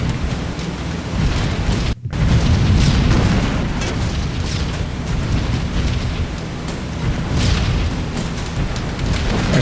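Explosions and heavy rumbling from a bomber under flak in the B-17: The Mighty 8th video game fill the scene, a loud, continuous booming roar with a brief dropout and no speech.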